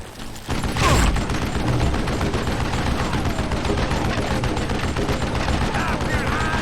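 Gunfire in Call of Juarez Gunslinger: a sharp shot around the first second opens a dense, continuous spell of game noise and rapid firing that keeps going, with a voice faintly underneath.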